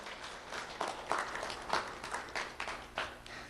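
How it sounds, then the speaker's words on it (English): An audience claps for the behind-the-scenes helpers at a ceremony held in school board chambers, a steady spread of many hands over the whole stretch with no talking. "So let's have a round of applause for everyone helping out behind the scenes today."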